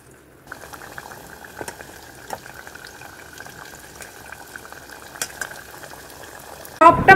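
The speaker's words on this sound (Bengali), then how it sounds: "আমি চলে এসেছি রান্নাঘরে চপগুলো ভেজে নেবো বলে" Chops deep fry in oil in a small container, a low continuous bubbling sizzle with scattered pops throughout and a louder burst of crackling right at the end.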